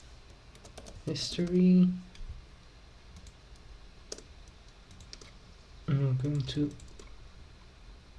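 Computer keyboard typing clatters in quick bursts of clicks, steady in the background between two short stretches of a person talking close by.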